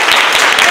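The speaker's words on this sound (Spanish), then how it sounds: "Les damos un aplauso a los chicos de Zappi." Loud, close burst of crowd applause at a live show, dense clapping filling the brief moment with a hint of voices mixed in.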